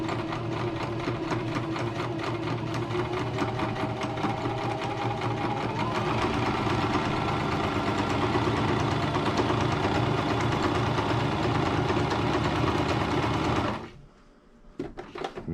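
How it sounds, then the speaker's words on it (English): A sewing machine runs steadily while back stitching fabric for home-made solar curtains, a continuous close mechanical whirr with rapid needle ticking that cuts off sharply near the end. "Now there's a little switch where I can back stitch, and then it just stitches backwards"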